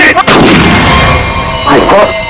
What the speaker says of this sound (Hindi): अब किसने गोली चलाई?